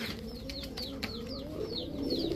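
Pakistani Teddy Rampuri pigeons at a large pigeon club coo steadily in low, rolling tones, layered with faint higher chirps, close and continuous with no speech.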